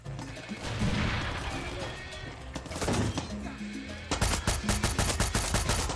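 Video-game crossfire in Far Cry 6 on PS5: heavy, fairly distant gunfire and crashes build into a closer burst of rapid automatic shots near the end.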